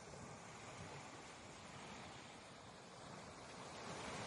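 Ocean waves wash against the shore in a faint, continuous hiss of surf with a gentle swell toward the end, distant and calm, with no voices.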